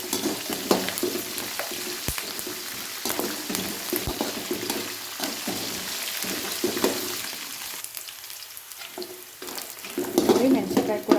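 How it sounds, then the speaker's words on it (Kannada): Chillies frying in hot oil give a busy, close sizzle with crackles and pops, along with stirring scrapes and a few sharp clicks. "ಸಿಡಿಯುತ್ತೆ, ಖಾರ ಎಲ್ಲ ಬಿಡಬೇಕು ಎಣ್ಣೆ, ಅಲ್ಲಿವರೆಗೂ ಫ್ರೈ ಮಾಡ್ಬೇಕು."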